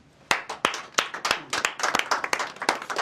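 Studio audience on a sports talk show clapping and cheering, a steady burst of applause with sharp individual claps rising after a brief pause and continuing throughout.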